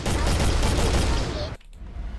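Gunfire in an indie video game: a loud, dense volley of shots runs steadily for about a second and a half, then cuts out and gives way to a quieter rumble.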